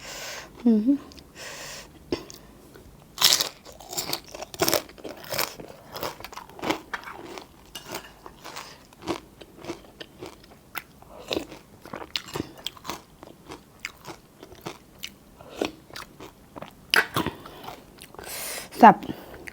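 Close-up chewing and eating of khanom chin rice noodles at a village merit-making feast. Soft bites and wet mouth sounds come in an irregular, intermittent rhythm, with occasional quiet vocal sounds between mouthfuls.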